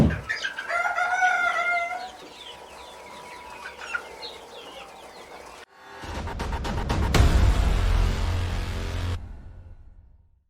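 Kadaknath chickens at a poultry farm in a village, with clucking and rooster-like calls up close, followed by a louder burst of mixed, noisy sound.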